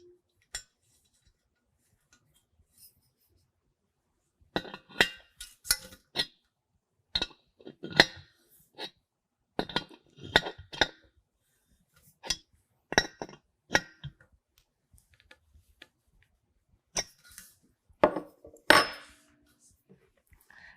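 A compression fitting is threaded into the tank of an onboard overlanding air compressor, heard as sparse, light metallic clinks and taps in short clusters over near-silence, close by and fairly quiet.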